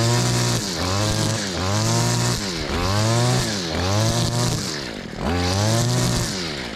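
A Stihl FS 94 R string trimmer's engine revs to full throttle in repeated rising and falling whines, loud and close, with no talk.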